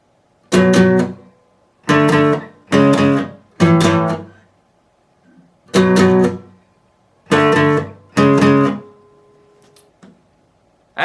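A guitar plays a song interlude at full tempo, a quick run of about eight sharp strummed chords in short clustered groups, loud and close, with brief gaps between phrases and no voices.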